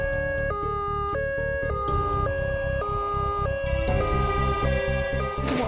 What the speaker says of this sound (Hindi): अरे एम्बुलेंस की आवाज आ रही है।